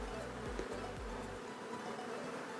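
Bees buzz steadily at close range, with a low droning hum that dips and rises in pitch during the first second before settling into a softer hum.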